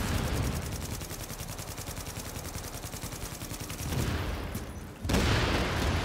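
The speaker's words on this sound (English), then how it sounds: "Alright, this is that AK I was talking about." Rapid automatic AK rifle fire in the shooter game The Division 2, a loud continuous burst of closely spaced shots running for several seconds, briefly easing before a fresh burst near the end.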